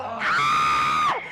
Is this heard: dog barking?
no